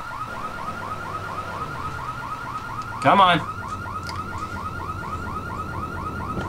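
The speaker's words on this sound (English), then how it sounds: "Car alarm going off." A car alarm in Grand Theft Auto III gives a steady, rapid warbling tone throughout, with a short louder burst midway and a brief spoken word over it.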